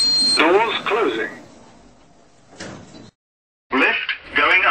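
In a Roblox game, a KONE Ecodisc elevator's doors glide closed with a brief sliding rumble and soft bump between automated announcements, followed by a short silence before the recorded voice resumes.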